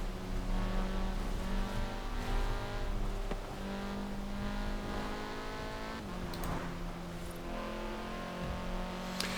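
Audi TTS driving in Forza Horizon 4 in the rain, a loud sustained engine drone with shifting revs and a brief skid partway through, heard alone with no talk.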